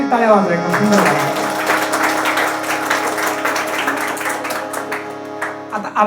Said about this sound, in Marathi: सगळ्यांसाठी टाळ्या वाजवाय का?